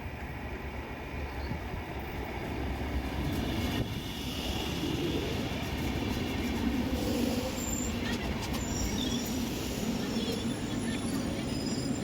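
Continuous low rumble of a train running on rails, steady and fairly close, with faint squeals and murmured voices over it.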